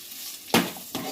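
A ladle scraping and stirring khajur pak, a date sweet, in a pan on low heat, two sharp clattering strokes against the metal over a faint background sizzle.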